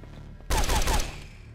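A sudden close burst of rapid gunfire in the game SOTS: The Pit, hitting the player: about half a second of loud cracking shots over low ambient hum, then fading.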